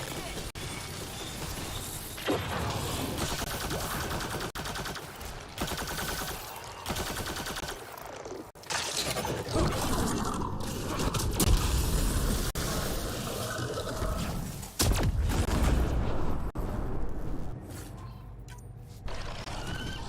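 Sniper rifle fire from the Angaran rifle in the video game Mass Effect: Andromeda, several loud sharp shots spread through the stretch amid other gunfire and game noise, with someone talking over the action.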